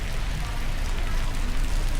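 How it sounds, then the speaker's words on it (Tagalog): Heavy rain pours down steadily in Canada as a dense, continuous roar of drops that stays loud and even throughout, with no voices. "Ang lakas ng ulan mga par."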